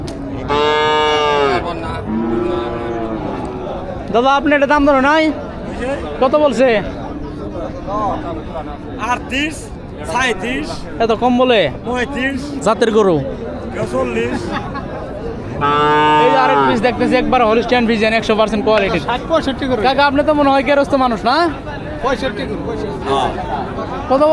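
Cattle and young calves at a market for improved-breed cows such as Holstein Friesian, Jersey, Sahiwal and Sindhi heifers, lowing repeatedly in loud, drawn-out moos, near and overlapping, with crowd chatter and buyers talking underneath.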